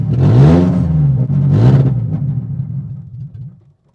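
A BMW E36 with an M42B18 engine, suffering an idling fault and throttle delay, runs with a loud, close rumble, bogs down and stalls, fading to silence within about four seconds.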